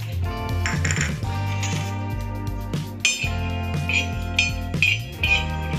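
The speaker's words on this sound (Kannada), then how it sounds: "ಈಗ ಐರನ್ ತವ ಬಿಸಿಯಾಗಿದೆ, ಮೀಡಿಯಮ್ ಲೋ ಫ್ಲೇಮಲ್ಲಿ ಈಗ ಧನಿಯಾ ಫ್ರೈ ಮಾಡ್ಕೊಳ್ತಾ ಇದ್ದೀನಿ" Coriander seeds dry-roast on a hot iron tava over a medium-low flame, with metallic clinks and scraping as they are stirred, close and fairly loud, with occasional sharper taps.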